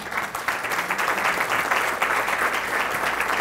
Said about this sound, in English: So applause for yourselves.